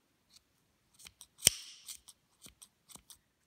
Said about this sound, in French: On va peut-être laisser 1 cm et on coupe.